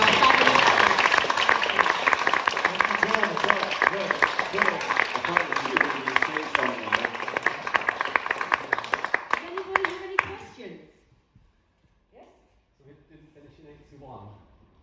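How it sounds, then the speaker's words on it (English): Audience applause at a Northern Soul panel event about Wigan Casino, a dense round of clapping for about ten seconds that fades out, followed by a few quiet voices. "Round of applause, please."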